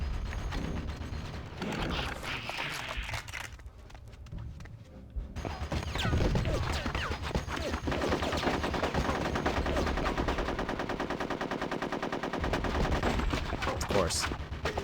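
Gunfire in the Nintendo 64 game Conker's Bad Fur Day comes as dense, rapid bursts mixed with explosions and game music, loud and continuous throughout.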